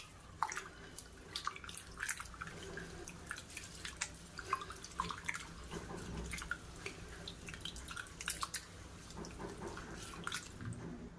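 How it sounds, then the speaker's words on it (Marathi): Water poured into a cooking pot, a steady, close run of dripping, splashing and trickling with small clinks throughout. "हे असं पाणी ओतायचं आहे या भांड्यामध्ये।"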